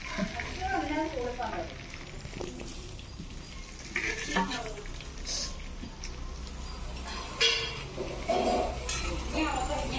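Mustard seeds, fenugreek, ginger, green chillies, onions and garlic fry in an uruli with a soft, uneven sizzle and occasional pan clinks, while someone talks intermittently over it.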